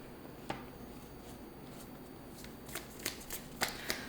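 Sacred Symbols Oracle cards are shuffled by hand at close range, with soft riffling rustles and a few sharper slaps and flicks of card edges, fairly quiet and unaccompanied by speech.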